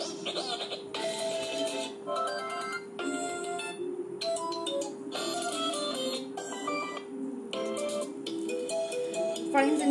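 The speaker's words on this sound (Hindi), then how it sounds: "फोन रिंगटोन वन चेंज करके दिखा रही है आपको।" A Tecno Spark Go 2021 smartphone plays a ringtone preview, a bright electronic melody of repeated chiming notes in short phrases that runs steadily on its own.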